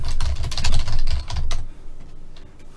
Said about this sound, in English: Okay, so I'm just typing that on Play Chess.